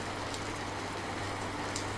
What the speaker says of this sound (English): Thunder cracked, strong winds were blowing, and rain poured the entire night.